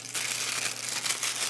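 Thin plastic vinyl gloves pulled onto the hands before eating chicken, a close, continuous crinkling and rustling with several brief louder crackles and no talk.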